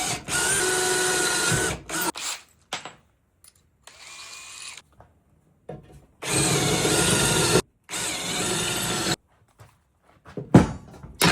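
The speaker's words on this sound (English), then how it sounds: "I'm gonna drill out these spot welds and get this bracket off" Power drill boring out spot welds on a steel bracket of a rat rod, in several loud, sustained bursts separated by pauses, with clunks and short tool sounds between them.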